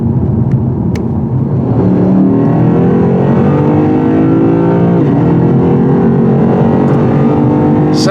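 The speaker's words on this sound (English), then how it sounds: "But trust me, this V8 is quick enough." A 2017 Lexus RC-F V8 accelerates hard, its loud, continuous engine note rising steadily in pitch as it pulls through the revs, with no voices over it.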